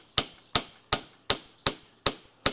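Nails are driven with a hammer while a swing is repaired at a camp: seven sharp, evenly spaced strikes ring out in a steady rhythm, close and crisp, with quiet between them.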